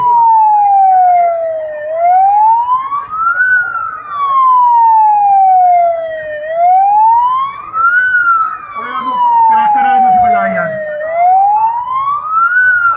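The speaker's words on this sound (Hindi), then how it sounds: "उनके लिए एम्बुलेंस जो है वो आई है" An ambulance siren wails loud and close, its pitch sweeping slowly up and down in a repeating cycle, with traffic noise underneath and a brief voice partway through.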